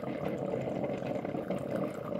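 An OXO Brew 12 cup coffee maker brews with a steady, close, bubbling and hissing rush of water and steam throughout.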